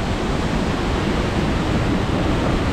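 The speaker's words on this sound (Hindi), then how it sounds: "कितना बड़ा वाटरफॉल मैंने फर्स्ट टाइम लाइफ में देखा हूँ" A large waterfall at Badrinath roars with steady, dense, loud rushing water that fills the whole stretch without a break and with no voices.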